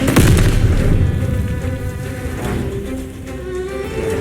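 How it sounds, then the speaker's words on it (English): A grenade explodes in the World War II shooter Call of Duty Vanguard during a Stalingrad mission, a loud, close, broadband blast at the start with a deep rumble that slowly fades under continuing low battle noise. "Ich werfe eine Granate! Throwing out a grenade."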